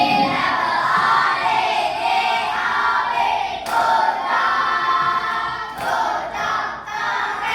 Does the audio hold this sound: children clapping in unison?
yes